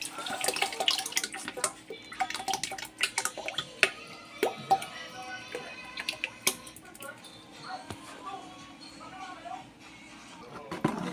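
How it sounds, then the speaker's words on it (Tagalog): Liquid surfactant for homemade dishwashing liquid poured in a circle into a mixture, a continuous close trickle with drips and splashes while someone talks over it. "Buhos na natin ang surfactant paikot."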